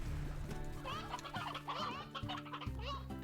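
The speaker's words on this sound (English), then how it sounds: "This is where my elder hens live, is in this pen." Elder hens in the Slime Rancher video game cluck in a pen, several repeated clucks and short calls overlapping at a moderate level, with no talk.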